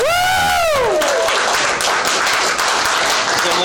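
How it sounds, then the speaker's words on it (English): An audience at a stand-up comedy show breaks into loud, sustained applause with cheering, opening with a rising whoop before dense clapping fills the room. "give your ears and a warm round of applause to Eli."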